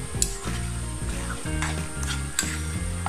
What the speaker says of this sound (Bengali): আমি মাছটাকে ভালোভাবে কষিয়ে নিয়েছি,